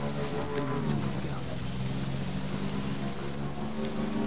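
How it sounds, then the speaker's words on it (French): Rain falling in the video game Death Stranding, a constant, even hiss of rainfall with a low steady hum beneath it, filling the scene without pause. "à partir d'ici, il pleut"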